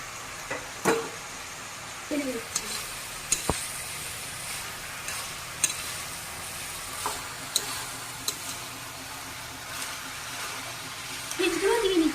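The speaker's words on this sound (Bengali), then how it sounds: "এই যে ভাত অল্প অল্প করে ছড়িয়ে দিচ্ছি" Boiled rice spread into a pan and stir-fried for fried rice, heard as a low steady sizzle with scattered spatula taps and scrapes under a faint voice.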